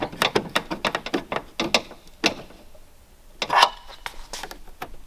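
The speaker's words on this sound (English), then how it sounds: "Tighten it back down with this Phillips head." A Phillips head screwdriver tightens a screw to lock a tinted car blinker housing in place, making close, rapid mechanical clicks in uneven bursts with short pauses between turns.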